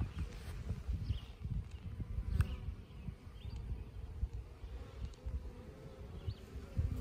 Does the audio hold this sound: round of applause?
no